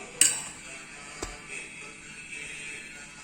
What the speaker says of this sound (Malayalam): വല്യമ്മയും മോനും കൂടെ അവിടെ ഊണ് കഴിക്കുന്നതിന്റെ ബഹളങ്ങളാണ് ഈ കേൾക്കുന്നത്